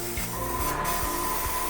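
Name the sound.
airbrush spraying body paint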